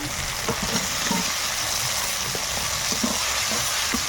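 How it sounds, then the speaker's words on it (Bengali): Chopped tomatoes frying with spices in a pan while cooking a Bengali pabda fish curry with long eggplant, a steady close sizzle with a few soft stirring clinks, no talk. "এবার কেটে রাখা টমেটো দিয়ে দেবো"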